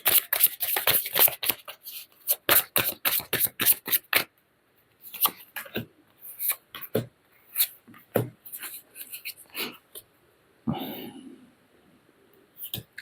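Tarot cards being shuffled in quick bursts of sharp riffling and slapping, clustered early then scattered in shorter clicks, while someone speaks French in between.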